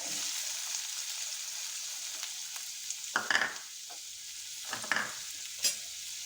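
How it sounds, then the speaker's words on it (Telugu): Onions frying in a pan for a banana-flower curry give a soft, steady sizzle, with several sharp scrapes and knocks of stirring near the middle and end, close by and without talk. "ఇప్పుడు ఏంటంటే ఉల్లిపాయలు వేపుతాం."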